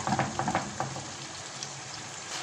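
Chicken liver frying in a pan, a steady soft sizzle with a few brighter crackles early on, close and moderately quiet, with no talking.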